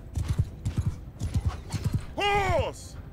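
In the video game Mount & Blade 2: Bannerlord, a horse's hooves clip-clop in a fast galloping rhythm, close and clear. A loud whinny rises near the end.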